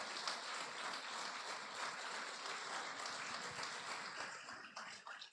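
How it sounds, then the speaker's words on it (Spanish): Congregation clapping strongly at a church service, a sustained wash of many hands, steady and fairly distant, tapering slightly at the close. "dale un fuerte aplauso al Señor."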